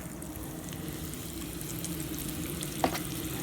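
Floured pork chops fry in hot grease with a steady, close sizzle and crackle, plus one brief louder pop near the end; no talking.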